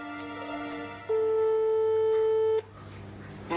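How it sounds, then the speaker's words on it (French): A phone call placed to a number gives a single long steady ringback tone lasting about a second and a half, clear and loud over faint line noise before it cuts off. "Mathieu va tenter de joindre le numéro de téléphone indiqué"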